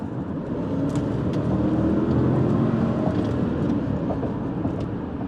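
A 2000 Lexus LS400 sedan accelerates from inside, its steady broadband engine and road roar holding constant and fairly loud for several seconds with no talk.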